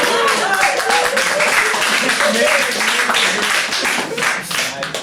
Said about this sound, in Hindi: क्या बात पे जो आपने ताली मारा,